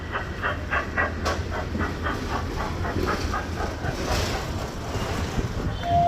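A train with air-conditioned coaches, including a restaurant coach, sits at a railway station, giving a steady rumbling station ambience with soft rhythmic clanks and a brief higher tone near the end.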